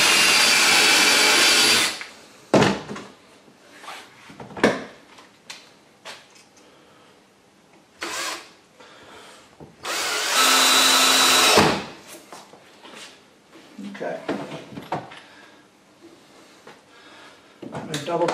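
A power drill bores a pilot hole while a casting sifter for a mortar tray is built, in two or three loud, steady bursts of a few seconds. Between them come quieter handling noises and scattered talk.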